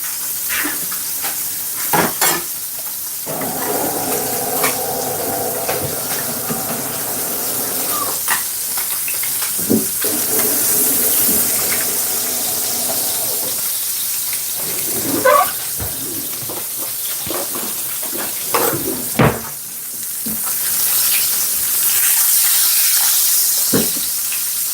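Battered fish fries in hot oil for fish and chips, giving a steady loud sizzle and hiss throughout. Occasional clinks and scrapes of a spatula sound over it, with brief bubbling surges. No one speaks.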